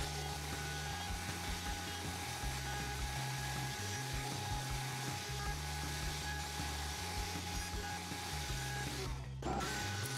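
Continuous loud whine of a router table cutting roundover and chamfer edges on wooden lamp pieces, with a steady motor drone and shifting low tones as stock feeds through, briefly dipping near the end.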